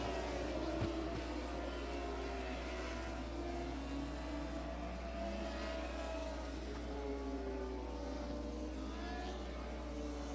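Race cars circling at Jacksonville Speedway, a continuous distant engine drone that swells and fades as they pass during a yellow flag, steady and unbroken with no talk.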